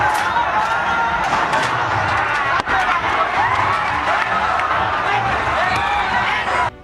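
A loud crowd of children chanting protest slogans against Pandian in unison, a dense rhythmic wall of young voices with no pause except one brief dip partway through.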